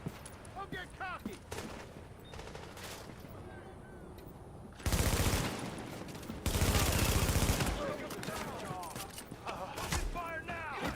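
Gunfire crackles in The Division 2 game, with scattered shots followed by two long, loud bursts of sustained automatic fire, while voices call out commands between volleys.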